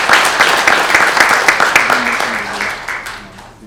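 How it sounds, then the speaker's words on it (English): A school gathering breaks into applause, loud clapping from a crowd that tapers off toward the end, with faint voices and a brief tone underneath. "So let's give him a round of applause"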